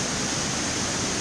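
Waterfalls at Monte Gelato roar as a continuous broadband rush of falling water, loud and close, with no voices or other sounds over it.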